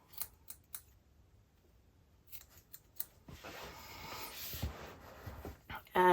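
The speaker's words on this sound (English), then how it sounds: "And then we're just going to cut the top." Scissors snip crochet yarn on a Christmas Grinch project, a few sharp close cuts at the start, then rustling handling noise and a louder clatter at the end.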